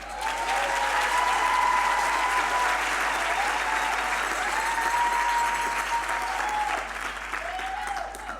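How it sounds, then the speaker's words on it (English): An audience at a university autumn graduation ceremony applauds a choir, with loud, dense, sustained clapping that stays steady throughout before easing slightly near the end, and faint tonal voices sit underneath. "this choir deserves a round of applause"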